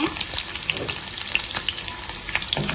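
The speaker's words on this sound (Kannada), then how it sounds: "ಇವಾಗ ಕ್ಯಾಪ್ಸಿಕಮ್ ಫ್ರೈ ಮಾಡೋದನ್ನ ತೋರಿಸ್ಕೊಡ್ತೀನಿ" Chopped capsicum sizzles and crackles steadily in a hot pan of oil for pizza topping, with close, continuous frying hiss and small pops throughout.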